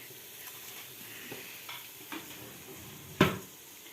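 Anchovies frying in a pan of hot oil for a homemade hamsi tava, giving a low steady sizzle with a few soft crackles and one sharp louder pop near the end, close by, with no talk.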